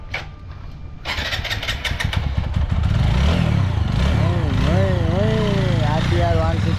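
An RTR 160 motorcycle, freshly washed, fires up after a brief cranking clatter, then settles into a loud, close engine note that rises and falls through several revs, with voices talking over it.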